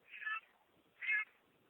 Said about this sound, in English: Sounds like your cat's telling you not to forget about cat food.